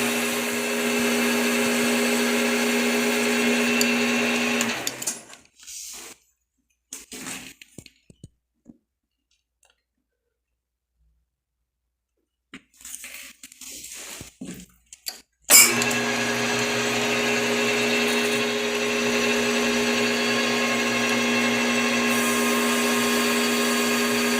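Sharp lathe tool taking a 2 mm pass on nylon under manual feed on a Bv20l lathe: a steady, close machining whine and hiss, broken by a quiet pause with a few clicks, then resuming strongly.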